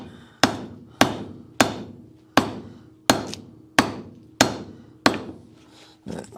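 A hammer taps wood while cantilevered shelving brackets are built: eight sharp, evenly spaced strikes, each ringing briefly before the next, close and alone.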